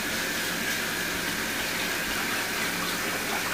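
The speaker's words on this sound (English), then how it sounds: "And so what we're gonna do is just run it through water" Long grain rice rinsed under a steady stream of running tap water in a kitchen, a loud continuous gushing splash close by, with no talk.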